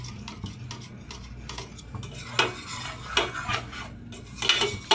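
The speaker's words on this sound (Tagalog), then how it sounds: "haluin na lang po natin ito hanggang matunaw po yung cheese" Macaroni and cheese is stirred in a pot with a utensil, giving soft repeated scraping and rubbing strokes with occasional sharper knocks against the side, fairly quiet and with no voice.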